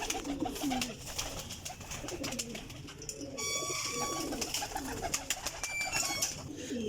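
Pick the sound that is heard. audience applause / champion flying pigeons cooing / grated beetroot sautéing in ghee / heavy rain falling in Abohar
champion flying pigeons cooing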